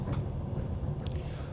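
Sleeper train from Bucharest to Kyiv in winter, the carriage rumbling and rattling over the rails on a bumpy ride, with a steady low drone and a couple of brief metallic squeaks, no talking.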